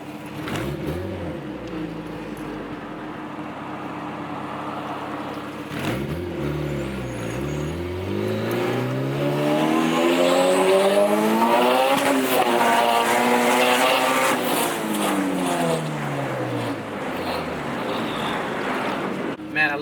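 A tuned 300 hp Honda Civic engine revs up and down repeatedly during street pulls, rising and falling in pitch as it accelerates, loud and close with a rough, throaty exhaust note.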